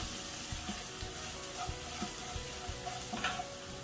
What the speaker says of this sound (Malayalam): ഇനി ഒന്നുകൂടെ നന്നായി ഇളക്കി കൊടുക്കുക.